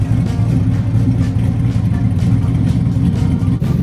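383 stroker V8 engine idling in a car with freshly adjusted valves, a loud close low rumbling drone with a slightly lumpy, pulsing rhythm throughout.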